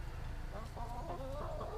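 Chickens cluck softly inside a coop, with low murmuring calls and a few short rising notes, faint and close against a steady low hum.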